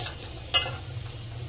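Potatoes lightly salted and dusted with turmeric fry in a pan of oil, making a low steady sizzle with one sharp clack of a utensil near the start.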